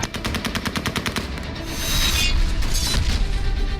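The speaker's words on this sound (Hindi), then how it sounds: "एयरपोर्ट पर अमेरिकी सैनिक फायरिंग करते दिख रहे हैं।" Gunfire from American soldiers at Kabul airport: rapid bursts of shots, dense and fairly loud, followed by a rougher, steadier roar of continuous firing with no voices.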